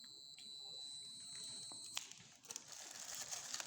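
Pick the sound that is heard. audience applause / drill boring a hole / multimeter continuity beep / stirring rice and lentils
multimeter continuity beep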